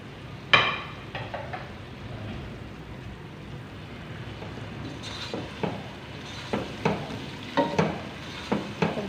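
Tomatoes hit a pan of garlic and ginger and fry with a soft, low sizzle, punctuated by faint scraping stirs that recur throughout, quiet and without any talking.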